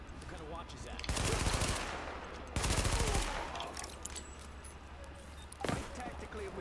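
Gunfire in The Division video game arrives as two loud automatic bursts about a second long, then a single short shot, over ambient game noise with speech present.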